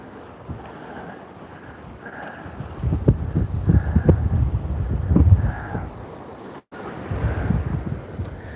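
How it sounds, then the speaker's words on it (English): Strong wind at a beach buffets the microphone in heavy, uneven gusts with surf rumbling underneath, rising loud in the middle before easing, with a brief dropout near the end. "If this wind really starts to pick up, we might have to call it a day"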